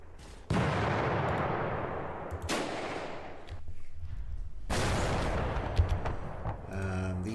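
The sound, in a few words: mortar fire in video game Panzer Campaigns Kiev '43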